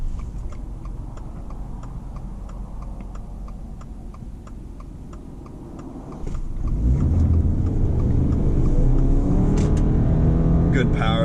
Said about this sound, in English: Good power for getting on the highway here. You're getting up to 60 miles an hour.